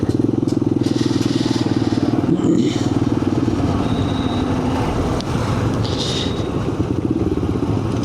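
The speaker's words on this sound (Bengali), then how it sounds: "দেখো বুলেট কিভাবে দৌড়াচ্ছে" A Bullet motorcycle rides along a smooth road, its engine keeping a steady, rapid thumping beat close up for the whole stretch, with rushing wind noise over it.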